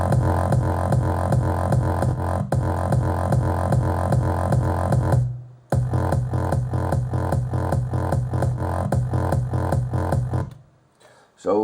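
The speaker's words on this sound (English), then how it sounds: "I'll let you hear the kick solo for a while." A hard, punchy hardstyle kick drum pounds in a fast steady rhythm, alone and loud, with a brief break midway before resuming and then cutting off.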